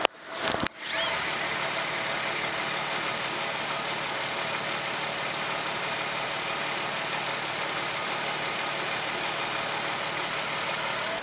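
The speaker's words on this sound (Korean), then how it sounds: "V6 엔진이다 보니까 굉장히 정숙하고 불규칙적인 소리 없이 규칙적인 엔진음 내고 있었는데요" A Hyundai Equus VS3 V6 engine with 110,000 km idles smoothly and evenly in the open engine bay, a constant close-up rumble with no misfires or revving, running alone for several seconds.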